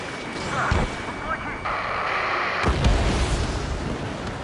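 Missile blast in the Ace Combat 7 air-combat game, a broad rumbling burst rising midway through dense in-game noise, with radio chatter and engine roar underneath.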